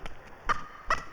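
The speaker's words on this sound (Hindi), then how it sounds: "वो देख, वो हमारा पड़ोस का मुर्गी है" Neighbour's chicken clucks in a Hindi comedy film scene set at a modest home, two or three short squawking calls, fairly close and clear with no talk over them.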